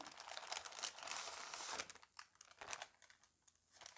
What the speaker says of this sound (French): j'enlève entièrement mon papier cuisson.